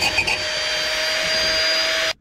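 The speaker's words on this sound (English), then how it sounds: "I just use a wire wheel on the drill" A wire wheel spun by a drill scrubs the exhaust manifold gasket surface on a 7.3 IDI engine, a steady, close, high-pitched whirring grind with a constant tone, stopping abruptly at the end.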